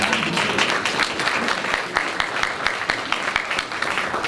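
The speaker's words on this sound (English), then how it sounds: "give them a round of applause" Attendees at a South Fulton city council meeting applaud with steady, dense clapping for the whole stretch. The applause is loud and close and fills the room.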